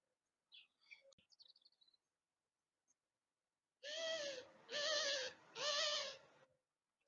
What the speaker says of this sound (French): il y a une tourterelle